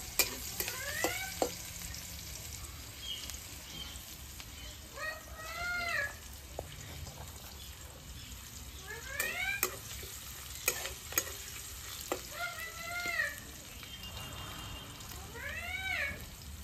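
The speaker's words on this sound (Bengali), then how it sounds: "পেঁয়াজগুলো একটু ভেজে নেব লাল লাল করে।" Onions frying in a pan until reddish for a duck egg curry, with a soft sizzle and stirring scrapes, while repeated high chirping calls sound in short bursts over it.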